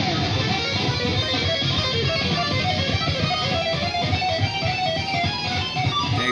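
An electric guitar solo plays alone, separated from the rest of the mix: a dense, heavily distorted lead that runs continuously at a steady, loud level.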